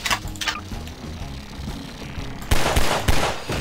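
Gunfire in the game Garry's Mod, a burst of shots that gets louder and denser toward the end over a steady low game background.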